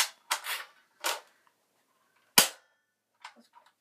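A BB gun from a budget mystery box fires several sharp, close snaps in an indoor room, spaced irregularly, with one loud crack in the middle and fainter clicks afterward.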